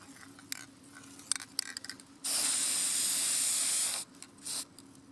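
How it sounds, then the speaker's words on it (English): Aerosol spray paint hisses steadily onto a homemade fidget spinner in one long burst of about two seconds, followed by a short second spurt, with faint handling clicks before it. "so I'm going to spray paint this side."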